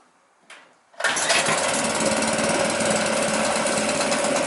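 An outboard motor on a SCAMP sailboat's outboard well is started with a pull cord: a brief pull rasp, then the engine catches and settles into a loud, steady, close running drone.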